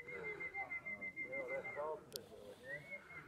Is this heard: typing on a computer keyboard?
no